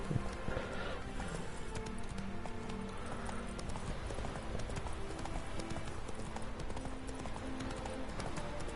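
Horse hooves clip-clop steadily at a trot in The Witcher 3, loud and continuous over a dense game soundscape, with no pauses throughout.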